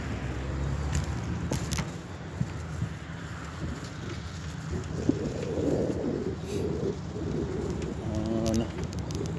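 Pigeons coo softly at an outdoor bird feeding spot, low murmuring calls in the middle of the clip over steady street and traffic noise, with a brief voice and a faint jingle near the end.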